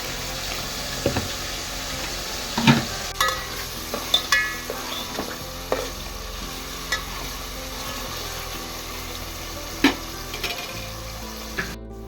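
Chicken gravy with potatoes frying in a pan, a steady low sizzle under occasional spoon scrapes and knocks against the pan as it is stirred, with no talking.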